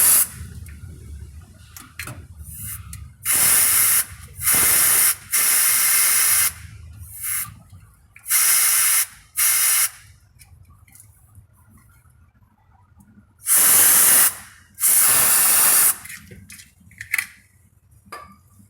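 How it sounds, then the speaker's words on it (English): Several bursts of an air duster can spraying compressed air into the ABS wheel-speed sensor hole of a 2012 Volkswagen Tiguan AWD, loud close hissing blasts of one to two seconds with quiet gaps and faint workshop clatter between. "Blow the hole with air duster,"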